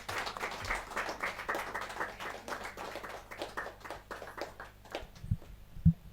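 Audience clapping at a Hindi poetry book launch during a kavi sammelan, a steady patter of many hands that thins out toward the end, with a few louder close taps.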